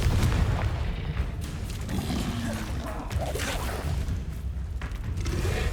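Booming spell explosions from the Confringo fire charm in the wizarding video game Hogwarts Legacy, a loud, dense, continuous rumble of blasts with low-end thumps throughout, no spoken voice over them.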